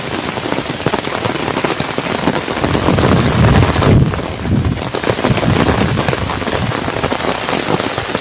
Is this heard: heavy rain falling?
yes